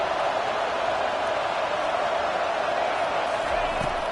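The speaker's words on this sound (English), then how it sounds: "It's early, but this crowd is fired up. Listen to this noise here." A college football stadium crowd roars in a dense, sustained wall of noise at a Syracuse at Auburn game, loud and unbroken throughout, with no distinct voices standing out.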